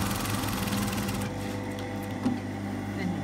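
A sewing machine stitching a tunic yoke to the shoulder whirs steadily and close for over a second, then settles into a quieter mechanical hum.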